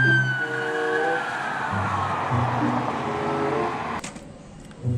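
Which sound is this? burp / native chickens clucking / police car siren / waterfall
police car siren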